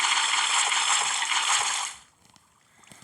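Water is placed in the Minecraft video game, giving a bright, hissing splash and rush of water that holds for about two seconds, then cuts off abruptly into near silence.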